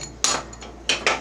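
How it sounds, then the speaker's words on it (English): Hammer strikes on metal while driving bearings out from under a Mastercraft 46-inch riding mower, about four sharp blows in uneven rhythm, two pairs of close loud hits with a quieter one between, no talking. "Not a lot of room to swing a hammer under there."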